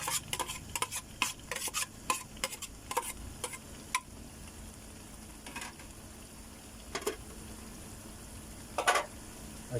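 Onion stirred in a pan for ginisang bagoong, a Filipino shrimp-paste sauté, with a string of sharp scraping and clinking stir strokes over a faint, low sizzle, busy at first and sparser later, with no talk.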